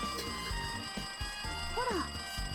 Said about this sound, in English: It looks like the phone is ringing.